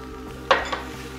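Snow peas tumble into a pot of charque, garlic and onion with a brief clattering scrape of metal and a second lighter knock, close and alone over a steady low kitchen hum.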